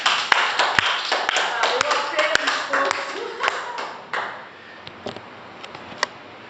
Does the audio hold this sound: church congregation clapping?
yes